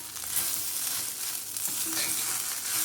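Paneer mushroom fried rice with homemade Schezwan sauce being mixed in a hot pan, a continuous bright sizzle and frying hiss with soft scraping of the spatula, steady and close.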